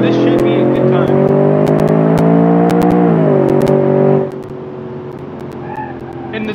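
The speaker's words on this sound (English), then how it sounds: "It has a 6-liter twin-turbo V8 with all-wheel drive, so this should be a good time." A BeamNG drag truck with a 6-liter twin-turbo V8 and all-wheel drive accelerates hard. Its loud, close engine drone climbs steadily in pitch, shifts around the middle, then drops to a lower, quieter note.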